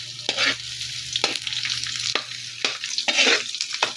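Onions frying in a pan after browned garlic, the food for a chicken adobo in coconut milk, with a steady sizzle and several scraping stirs at irregular moments, close and moderately loud, with no talking.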